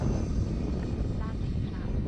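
A Marlin 2.0 RC airplane makes a quick pass at medium speed, its motor a broad, loud whine-roar mixed with wind noise, steady across the short moment.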